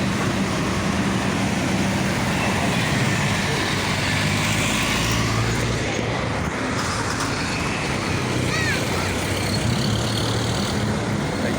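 Dense, steady road traffic roars and rumbles along a busy street at a crossing, with vehicles passing close and loud throughout and no clear voices on top.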